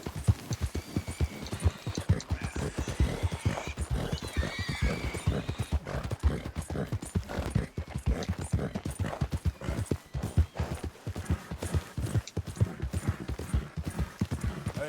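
Steady clip-clopping hooves of a trotting horse in Red Dead Redemption 2, close and continuous, with a faint whinny partway through.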